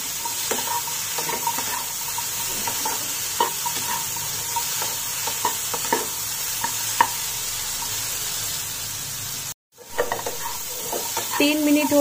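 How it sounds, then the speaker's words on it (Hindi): Boiled chickpeas being stir-fried with spices in a pan for chole chaat, a soft continuous sizzle broken by irregular scraping stirs, with a brief dropout near the end before the stirring resumes. "2 से 3 मिनट हम इसी तरीके से बीच बीच में चलाते हुए छोले को भून लेंगे।"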